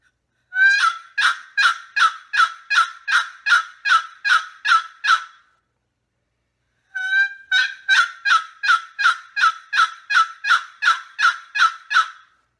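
Wild turkey hen yelps imitated on a wooden box call by closing the lid: two loud, close series of about a dozen evenly spaced yelps each, with a short pause between, no voices.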